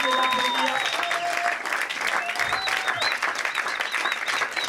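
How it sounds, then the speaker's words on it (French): Audience applause for poets at a live poetry event in 2010, a dense steady clapping crowd filling the room, loud and continuous throughout with faint voices underneath. "je vais demander d'applaudir tous les poètes et je vais leur demander de remonter sur scène pour qu'on puisse les applaudir"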